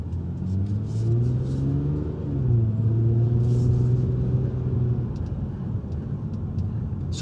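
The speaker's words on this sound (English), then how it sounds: "The interior engine noise isn't super loud." Steady low car engine drone with road rumble inside the cabin, pitch rising as the vehicle speeds up, fairly loud and continuous.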